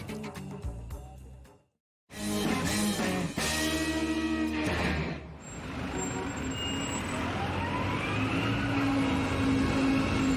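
A 2 or 5 subway train in the Bronx rumbles and screeches nearby after a brief silence, with hissing brakes and a rising whine as it moves through the station.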